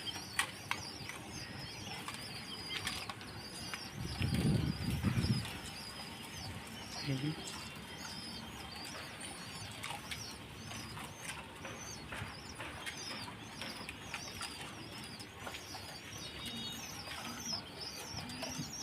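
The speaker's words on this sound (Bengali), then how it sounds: "এই যে কবুতরগুলো এই জায়গায় সেট করছি" Pigeons in a loft coo softly among scattered chirps, with a brief burst of wing flapping near the start and steady low bird chatter throughout.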